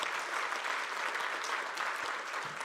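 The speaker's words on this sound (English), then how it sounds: "may I request all of you to give a big round of applause to all our speakers today" Audience applause for the speakers at the AIMA Young Leaders Summit 2024, a steady wash of many hands clapping together, fairly even and sustained throughout with no voices standing out.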